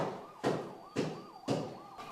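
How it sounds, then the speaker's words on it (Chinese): A siren on a highway across the way wails in repeated rising sweeps about every half second, each burst sharp and strong, carrying clearly on its own with no talking. "对面的高速公路今天是一直拉着警报。"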